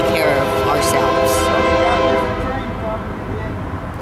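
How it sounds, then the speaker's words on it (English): A passing train blasts its horn in long sustained chords over a heavy rolling rumble, loud and near, fading slightly toward the end; a voice is faintly mixed in. "Here comes the train."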